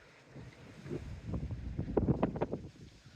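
Gusty wind on a seawall and seafront at Dawlish buffets the microphone in rumbling bursts that swell and fade, moderately loud with no voices.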